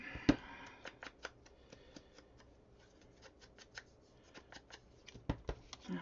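Scissors snip through craft paper in a series of short, quiet, crisp cuts, some in quick runs and some isolated, close-up against a faint background hush.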